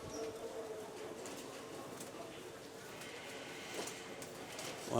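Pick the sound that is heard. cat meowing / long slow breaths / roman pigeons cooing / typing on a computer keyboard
roman pigeons cooing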